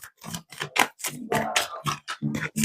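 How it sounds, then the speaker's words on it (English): Rapid papery flicks and slaps of tarot cards being shuffled, irregular bursts in quick succession, close and crisp. "these cards usually shuffle so nicely, but they're being chaotic today."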